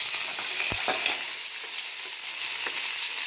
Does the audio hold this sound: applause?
no